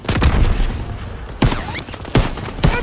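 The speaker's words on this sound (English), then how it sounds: "They're shelling that beach to shit!" Artillery shells pound a beach in the World War II game Call of Duty: WWII, a loud series of heavy blasts and crackling gunfire that returns in sharp bursts over continuous battle rumble.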